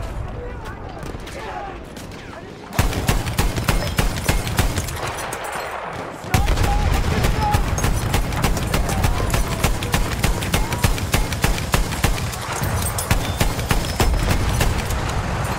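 An anti-aircraft gun in Battlefield 1 fires in rapid, sustained bursts, dense rhythmic thuds that begin after a few quieter seconds and then hammer on almost continuously, loud and close with a brief pause between volleys.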